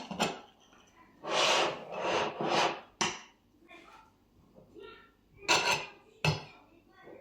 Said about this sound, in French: donc on va couper pour faire une tranche